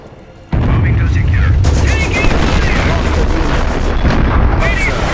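Gunfire and explosions fill a battle in the video game Company of Heroes, a dense, loud stretch of shots and booms that starts abruptly and runs on continuously, with whistling shells and a voice briefly heard in the mix.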